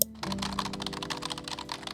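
Quick, soft clicking of keys being typed on a computer keyboard, a steady close-up patter lasting about two seconds with no talking.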